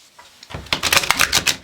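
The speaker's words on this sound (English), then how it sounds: "I'm going to get one more shuffle" A deck of oracle cards is shuffled by hand, a quick burst of crisp, rapid clicking and riffling that starts after a brief pause and runs to the end, close and fairly loud.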